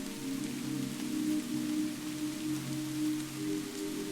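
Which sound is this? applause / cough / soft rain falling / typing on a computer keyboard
soft rain falling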